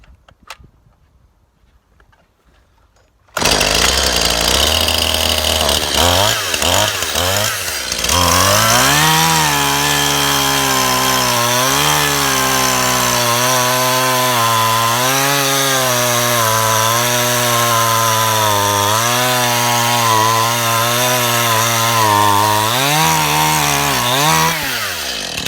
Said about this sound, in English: let's just chop up some of my logs